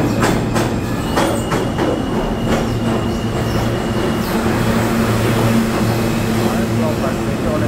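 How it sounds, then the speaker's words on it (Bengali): An M subway train pulls into Jackson Heights station with a steady roar of wheels and rail clatter close by, rhythmic clicks early on, and a hot, crowded platform around it. "এই তো আসে গেছে ওই যে এম ট্রেন"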